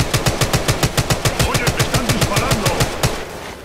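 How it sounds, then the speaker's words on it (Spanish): Rapid automatic gunfire in Apex Legends Mobile rattles out in a tight, evenly spaced stream of loud, close shots for about three seconds before tapering off. "Oye, me están disparando."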